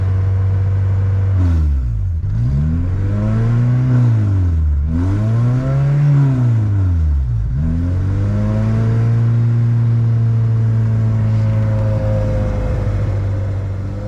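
A car with an H22 engine idles and revs in repeated swoops, three quick rising-and-falling blips followed by a long steady held rev, loud and close with no talk.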